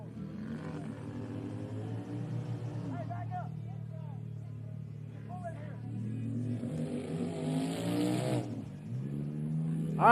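A race vehicle's engine sputters and pops unevenly at low revs in the distance, rising and falling in brief bursts beneath near-continuous commentary from an announcer.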